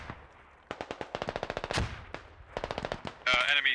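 A gun fires in the military shooter game Squad, loud close bursts of rapid automatic shots separated by short pauses, with a brief mechanical clatter near the end.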